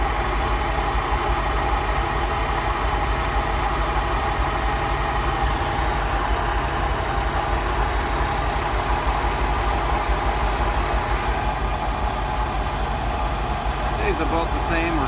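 A Rolls Royce Silver Shadow engine idles at about 700 RPM during carburettor tuning, giving a steady, close mechanical hum and rumble with an even low throb that holds throughout.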